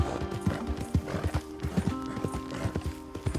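Horse hooves clip-clop at a steady trotting rhythm in the Red Dead Redemption 2 video game, moderately close, with faint snorting mixed in.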